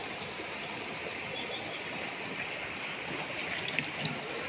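Water in a river flows in a steady, broad rushing wash with gentle splashy texture, close and continuous, with a couple of faint small splashes near the end.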